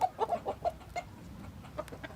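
A rooster makes a rapid run of excited clucks calling his hens to food, close and fairly loud, then tapers into a few scattered softer clucks.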